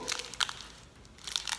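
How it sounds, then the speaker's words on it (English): Crunching and cracking of a hard, bitter vegan snack being chewed up close, with a few sharp crisp bursts spread over a quiet second and a half. "It's a little labor intensive in the chewing department."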